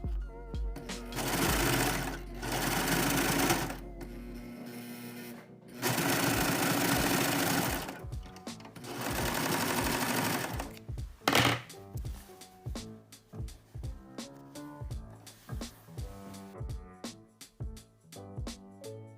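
A sewing machine stitches the waistband seam of a fabric tennis skirt, running in loud sustained bursts with short pauses, then breaking into a rapid series of distinct mechanical knocks at close range.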